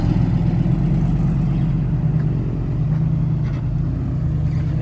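A dump truck unloads soil at a wide dumping site worked by heavy equipment, a loud continuous diesel engine rumble close by that holds steady throughout.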